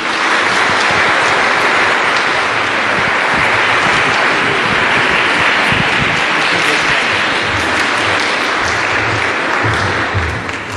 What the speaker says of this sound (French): On va t'applaudir, Louise.